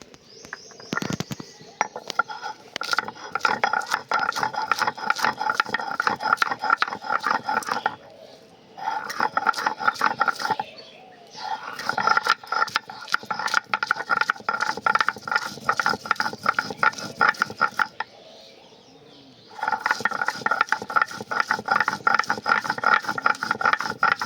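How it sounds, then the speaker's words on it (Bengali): Green chilies, garlic and onion are ground for Bengali chicken paturi, producing a continuous gritty rattling and scraping with rapid rhythmic strokes, pausing briefly a few times. "এবার এই পাতুরির জন্য কয়েকটা মশলা আমি বেটে নেব।"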